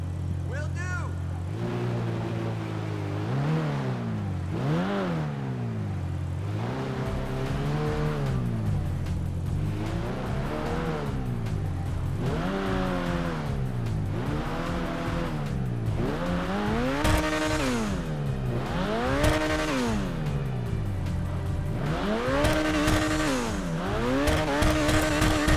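A Koenigsegg Jesko in a video game revs hard through repeated rising and falling sweeps, its loud engine climbing through the gears steadily and close by.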